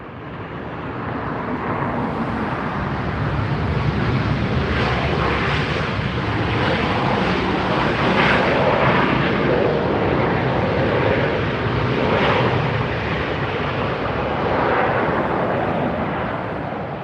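A jet airliner rumbles and roars steadily at LAX airport, a broad continuous engine wash that swells and fades slightly while taxiing, heard alone without talk.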